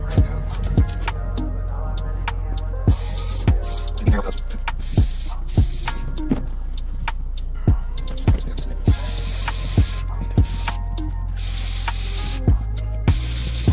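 Short, sharp hissing bursts of spray mist hit a pair of Jordan 1 High OG Celadon sneakers outdoors, repeating at a steady rhythm over a constant low hum, loud and close.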